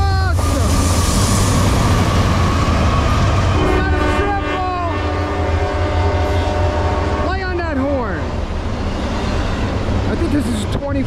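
A Norfolk Southern freight train, 24X, rumbles past loud and close, its horn sounding long sustained blasts over the steady rail noise, with a few shorter horn calls near the end.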